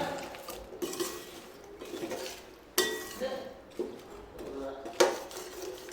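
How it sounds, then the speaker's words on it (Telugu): A spoon scrapes and clinks against a pan as milk is stirred into bread halwa, making repeated sharp metallic knocks and scraping strokes at an irregular rhythm, close and clear. "ఇక పాలు పోసిన తర్వాత ఒకసారి ఇట్లా కలపండి."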